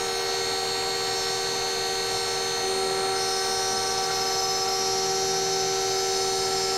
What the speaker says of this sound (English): I'm going to use the vacuum.